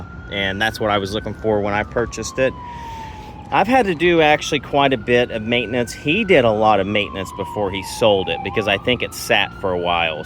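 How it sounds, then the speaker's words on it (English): Emergency vehicle sirens wail steadily in the distance, rising and falling faintly behind continuous close-up talk beside a 2002 Pontiac Trans Am Firehawk. "Sorry for the sirens in the back."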